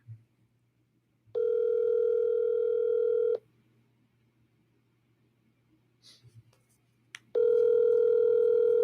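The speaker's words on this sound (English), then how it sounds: "Partner's not picking up the phone, man." Steady telephone ringback tone sounds in two long, loud beeps with a pause between, from an unanswered outgoing call during live cold calling, with faint clicks in the gap.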